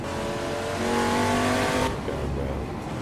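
A race car engine in Assetto Corsa at Goodwood roars at high revs, climbing steadily in pitch, then drops briefly as a gear changes and keeps pulling; loud, close and continuous.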